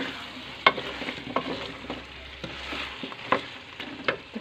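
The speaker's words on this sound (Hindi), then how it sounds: "पहले हम इसे अच्छी तरह से आलूओं को चिकन के साथ जो है वो भून लेंगे" Potatoes and chicken for an aloo gosht curry are stir-fried in a pan, with a soft sizzle under repeated scraping stirs and a few sharper clinks at irregular intervals, quiet and close.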